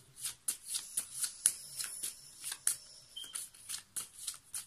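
Playing cards are shuffled by hand in a quick series of crisp riffling bursts, close and fairly quiet, repeating in an uneven rhythm throughout.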